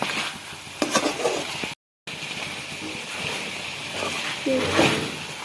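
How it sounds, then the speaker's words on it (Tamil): Onions with turmeric powder sautéing in a pan for a green chicken gravy, a soft sizzle with scraping and stirring clatter, briefly cut out midway, and a voice speaking over the cooking. "மஞ்சள் பொடி சேர்த்து கொஞ்சம் பச்சை வாசனை போகிற அளவுக்கு வதக்கணும்."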